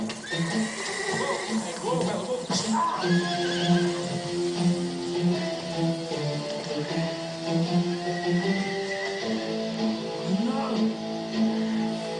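Horses whinny and neigh in long, wavering calls, several in succession, close by with some background noise.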